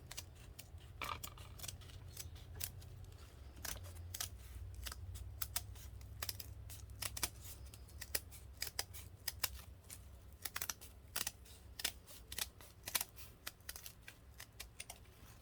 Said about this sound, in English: now I can cut this circle. And cut where I traced.